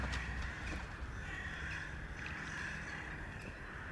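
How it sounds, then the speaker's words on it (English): Crows caw outdoors, a few harsh calls rising over a steady rushing ambient background, moderately loud and persistent with no talk. "Do these crows ever shut up?"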